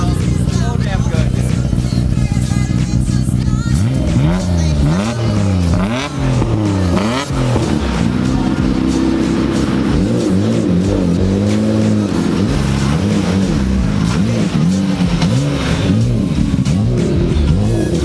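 A car engine revs hard inside a workshop, loud and close, with repeated rising and falling throttle blips over a heavy rumbling idle that fills the whole stretch.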